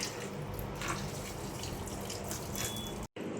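A small glass of water poured into marinated chicken for dum biryani, a steady close trickle and splash with faint drips, quiet and without speech, cut off abruptly near the end.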